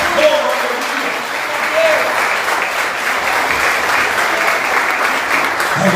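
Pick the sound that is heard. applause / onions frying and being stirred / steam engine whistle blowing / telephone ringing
applause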